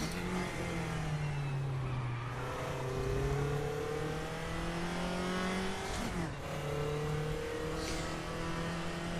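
A race car engine from the video game RaceRoom drones steadily up close, rising and falling as the driver lifts off and accelerates through corners, with no voices over it.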